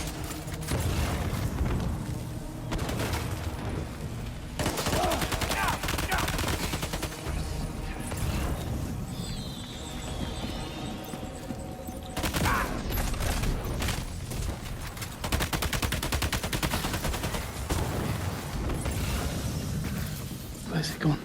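Gunfire in the video game Death Stranding 2 comes in dense, loud bursts of rapid shots, heavy and close, separated by short lulls over about twenty seconds, with talking over parts of it.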